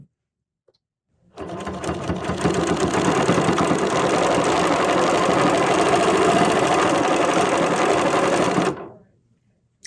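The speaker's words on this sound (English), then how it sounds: "this 1/4 inch, I'm going to easily just stitch" A sewing machine stitches quilt string blocks in one steady, fast, rattling run lasting several seconds, close and clear, starting and stopping sharply against near silence.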